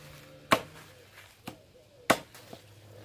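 Wood chopped for a stove, with four sharp, separate chops spaced unevenly, two of them loud and close and two lighter, over a quiet background.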